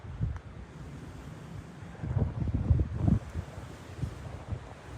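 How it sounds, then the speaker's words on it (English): Wind gusts across an open mountain crest at about 9,200 feet in the Black Range, a low roaring rush that swells in the middle and buffets the microphone, with no voices. "Very windy up here."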